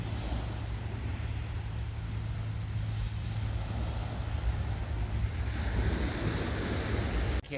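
Waves roll and wash continuously onto a beach on the Côte d'Azur, a steady surf roar mixed with wind rumbling across the microphone, with no voices.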